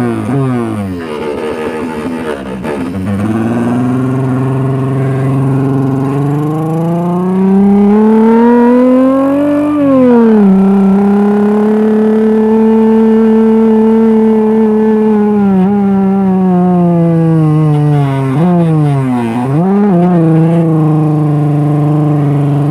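An old motorcycle engine modified to sound like a big bike roars up close, its pitch rising and falling through several revving surges and gear shifts over a sustained run.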